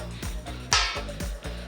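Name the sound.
dustbin lid being struck as percussion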